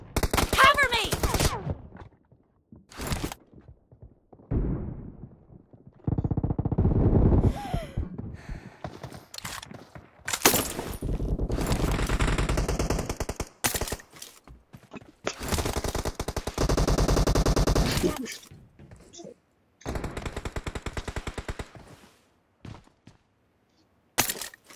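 Bursts of automatic gunfire from the battle royale video game PUBG, loud and close, coming in repeated volleys of varying length with short silent gaps between them.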